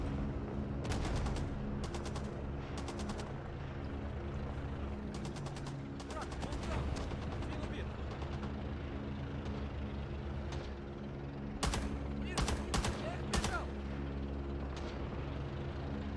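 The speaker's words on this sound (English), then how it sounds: "I think that shot might have got him." DP-28 light machine gun firing in the Rising Storm 2 winter war game, repeated sharp bursts and single shots over a constant droning game ambience, with louder rapid bursts near the end and voices talking.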